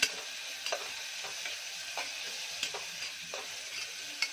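Ingredients for a carrot and drumstick curry sautéing in a pan, a quiet continuous sizzle broken by soft periodic stirring scrapes and clicks, no talking.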